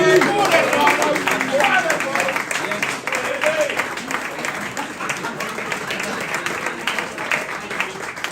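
An awards-night crowd applauds steadily with dense, continuous clapping that holds for several seconds, with voices faintly mixed underneath.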